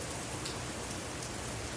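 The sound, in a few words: rain falling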